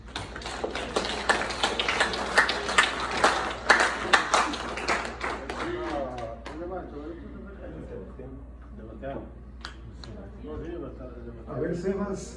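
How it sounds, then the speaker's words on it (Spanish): Applause and scattered clapping from a small crowd greet a child being introduced, loud and dense for about five seconds before thinning into sparse claps under chatter, with a brief renewed burst near the end. "Esta es Amelia, un fuerte aplauso."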